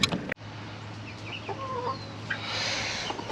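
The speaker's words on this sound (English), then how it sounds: "Got broody hens here." Broody hens cluck softly nearby, with a few scattered calls over a steady low hum after a brief knock at the start.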